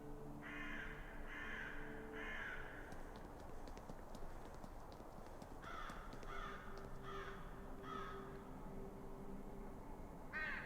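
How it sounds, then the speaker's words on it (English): Crows caw repeatedly in harsh bursts in the video game Saint Kotar, several birds calling in clustered groups over a steady ambient background with faint clopping, with no talking. "It's inhabited by dozens, if not hundreds of crows?"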